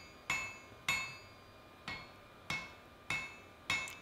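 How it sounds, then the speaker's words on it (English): Hammer blows on hot steel while forging the taper of a Viking shipwright's axe drift, six sharp ringing metallic strikes at a slow, fairly even pace, close and distinct with clear anvil ring. "So basically just forging up towards the fat end, giving more blows to the narrow end."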